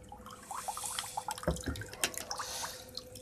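Water runs and drips from an RO booster pump setup, a close, steady trickle with scattered splashes and drips and a faint steady hum underneath.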